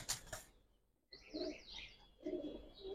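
Pigeons kept for sale, Giribaz, racer and colouring breeds, give soft coos under brighter chirping twitters, fairly near, with a short silent gap before the calls resume.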